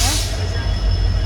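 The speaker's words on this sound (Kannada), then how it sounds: "ಟ್ರೈನ್ ಹೋಗ್ತಾ ಇದೆ, ನೋಡ್ತಾ ಇರ್ಬೋದು" A passenger train runs along the tracks on the Bangalore to Dudhsagar route, heard as a steady loud rumble and rattle with a high whine throughout.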